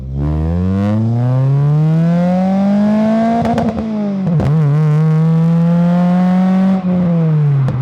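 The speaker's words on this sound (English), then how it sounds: "even with that exhaust, I will say it's a Jap speed back box. It does drone." A Toyota Celica with a Japspeed back box exhaust drones steadily while driving, a loud, low, constant engine hum whose pitch rises and falls gently with brief bumps of clatter.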